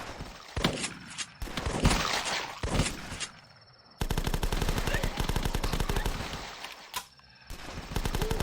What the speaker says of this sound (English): Let's take the shotgun for a spin, shall we?